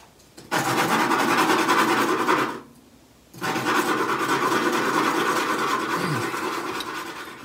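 Parts of an Accura MR-X air rifle being sanded by hand for Williams Western Precision sights, giving a steady, loud rasping scrub that stops briefly for a pause and then resumes at the same close, continuous pace.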